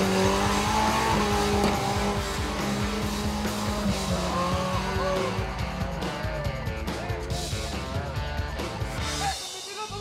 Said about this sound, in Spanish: ¿Se fijaron cómo mantuvo las revoluciones del motor? Bien arriba, todo el rato.